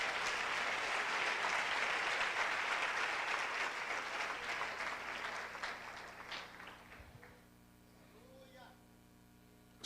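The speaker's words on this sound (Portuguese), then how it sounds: "aplauda o Senhor pela vida do santo missionário" A church congregation applauds for a missionary during a Pentecostal preacher's sermon, broad sustained clapping that thins and fades over several seconds into quieter room tone.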